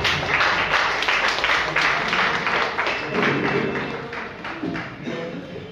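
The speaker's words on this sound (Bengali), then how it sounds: "এইবার হাততালি জোরে হতে হবে।" Audience applause at a library event, a poetry gathering at a library's new building, a steady burst of clapping close and fairly loud that holds for several seconds and then tapers slightly.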